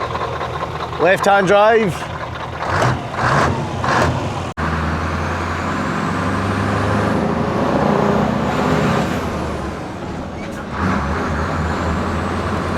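A truck's engine running steadily after starting, a continuous low rumble with a brief idle-like drone, while people talk over it in the opening seconds.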